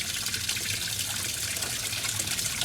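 Water runs steadily from a tap while a camper is being unwinterized, a continuous close hiss with no pauses and no voices.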